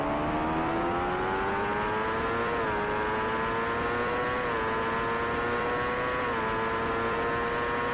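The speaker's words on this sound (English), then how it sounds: "Just hitting the rev limiter right at the end of the straight" An IndyCar engine in Indycar Racing II buzzes hard against the rev limiter on a straight during the 1990 Toronto Grand Prix, a loud, steady, high-pitched drone that wavers slightly in pitch without a break.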